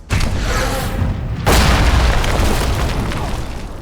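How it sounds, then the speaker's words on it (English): Grenade launcher explosion in a fantasy film, a loud booming blast that hits hard at once, then a second heavier burst of rumbling debris that slowly fades. "when Keltis first approaches the dwarf, he shoots a freaking grenade launcher at him"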